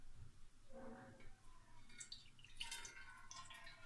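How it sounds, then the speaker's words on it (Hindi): One cup of water pours into a cooking pot, a quiet splashing trickle in a few short bursts that grows brighter toward the end. "एक बर्तन लिया है हमने और उसमें हम 1 कप पानी डालेंगे।"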